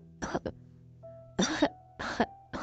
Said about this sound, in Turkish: Zavallı arkadaşım öksürmekten dakikalarca yanıt veremedi.